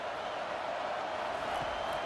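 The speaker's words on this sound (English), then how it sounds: "this crowd is tearing the lid off this place" Roaring stadium crowd in a college football video game, Notre Dame versus Michigan, a steady distant wash of cheering noise throughout with no distinct voices.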